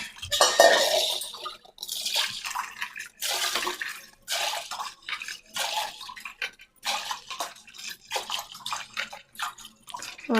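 Freshly washed clothes are rinsed in a tub of water, making repeated close sloshing and splashing bursts with brief pauses between them and an occasional clank of a container.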